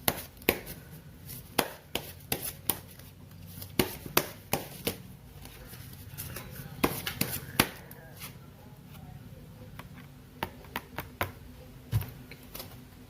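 Tarot cards are shuffled and drawn, with a series of sharp, irregular slapping and flicking taps close by, and a faint voice in the background.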